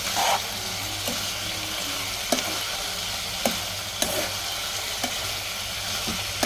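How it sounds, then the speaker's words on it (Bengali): Beef with tomato sauce sizzles steadily as it is stir-fried in a hot pan, with a sharp scrape or tap of the spatula against the pan every second or so. "এখন ভালো করে নেড়েচেড়ে নিতে হবে সস দেওয়ার পরে।"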